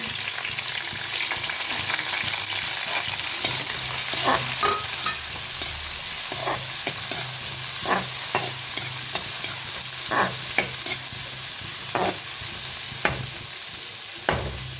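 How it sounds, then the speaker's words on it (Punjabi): Onions sizzle steadily in a hot pan for a Punjabi potato and sangri-style vegetable dish, with repeated scraping stirs from a spoon over the constant loud frying hiss, up close and without speech. "ਹੁਣ ਆਪਾਂ ਪਾਉਣੇ ਪਿਆਜ਼"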